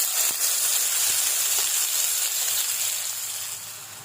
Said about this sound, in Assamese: এইখিনি মই এতিয়া মিডিয়াম ফ্লেমত 6-7 মিনিটমান ভাজিম